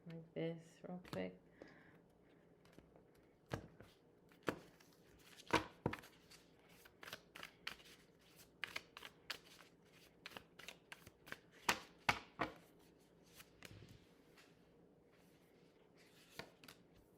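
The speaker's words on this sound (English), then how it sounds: "I'm being called to like shuffle like this real quick." Tarot cards are shuffled by hand in quick, crisp riffles and taps, recorded quietly and close up, with a voice speaking softly in the background.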